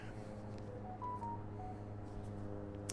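Faint beeping dial tones from a phone keypad, several short tones in quick succession over a low background hum.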